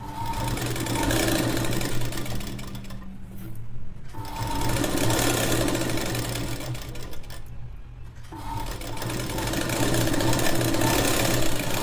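A sewing machine stitches lining onto the main fabric of a child's long gown in steady, fast whirring runs, stopping briefly twice before starting again, with no talk.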